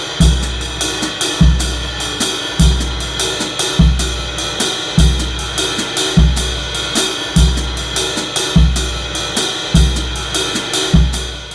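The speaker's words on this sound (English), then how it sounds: "to accompany that ride cymbal pattern and to give us a nice Afro-Cuban feel" On a drum set, a ride cymbal, hi-hat and bass drum play an Afro-Cuban 12/8 groove, with a steady loop of bass drum thumps under a continuous shimmering cymbal wash, loud and close with no voices.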